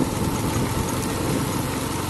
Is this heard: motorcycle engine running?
yes